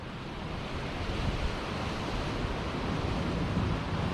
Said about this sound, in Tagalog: Laki ng alon, no?